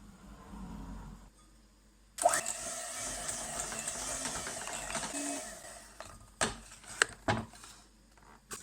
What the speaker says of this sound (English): I beat this just a little bit just to make sure that that butter is lovely and soft